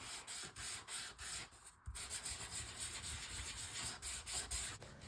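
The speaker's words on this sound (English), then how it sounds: "I think I'm going to sand those just a little bit" Close, rhythmic rubbing of sandpaper on paper mats in quick back-and-forth strokes, with a brief pause partway through.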